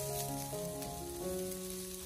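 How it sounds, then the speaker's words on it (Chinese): Cucumber peel stir-fried in a wok over low heat gives a soft, steady sizzle with faint scraping, continuous and close, under a quiet tonal background melody. "我们用小火不停地翻炒一小会"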